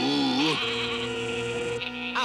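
A sheep bleats loudly and close by, a wavering drawn-out cry with a shorter bleat at the end.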